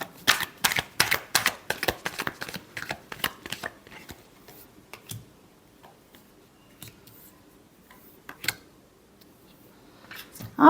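A deck of tarot cards being shuffled by hand: a quick burst of crisp riffling flutters up front, then softer scattered taps and slides, with a final sharp slap at the end.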